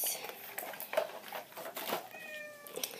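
A house cat gives a short meow near the end, close to the microphone, following a few seconds of background voices and room noise.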